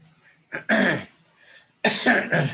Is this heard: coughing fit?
yes